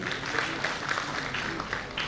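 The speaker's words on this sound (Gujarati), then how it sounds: "ઓઝા સાહેબનું દિલના દરવાજે પણ સ્વાગત હોય તાળીઓથી વધાવી લેશું" A gathering in Surendranagar district claps to welcome an education officer, soft, even applause from a seated audience heard at some distance, steady throughout with little else over it.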